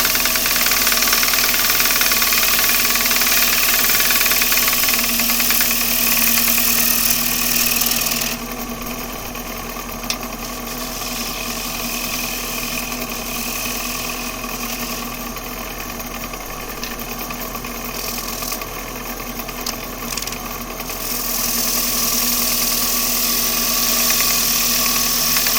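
A wood lathe turns a workpiece while a gouge cuts it, giving a steady loud motor drone with a harsher, scraping texture through the middle stretch.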